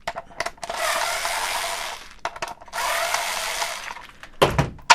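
A power drill backs screws out of a Nemesis hopper bar in two sustained whirring bursts, close and fairly loud, separated by small clicks and handling taps, ending with a sharp metallic clatter.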